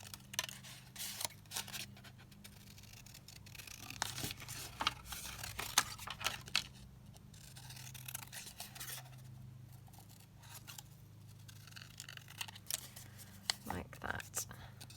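Scissors cutting paper pieces for crafting ephemera, a series of quiet, close snips and crisp blade slides in irregular bursts, with a soft voice talking at times.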